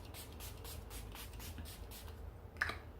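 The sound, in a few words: setting spray sprayed onto face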